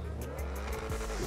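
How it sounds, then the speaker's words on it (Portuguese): A Bugatti Divo engine runs loud and close, a steady growling roar with rhythmic rising pulses throughout, heard alone without talk. "Ó o barulho do carro, você viu?"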